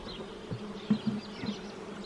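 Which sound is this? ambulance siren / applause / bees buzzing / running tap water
bees buzzing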